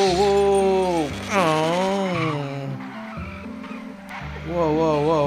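Skidding tires squeal through a motorbike chase in an animated cartoon, loud and continuous, with rising and falling wavering tones and excited voices shouting over them.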